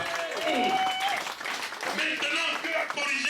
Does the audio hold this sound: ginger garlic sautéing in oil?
no